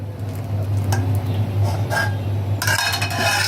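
Caramel and milk being stirred in a pot for homemade sweet yogurt, with soft scraping and squishing under a steady low hum, then a brighter clatter of utensil against metal near the end.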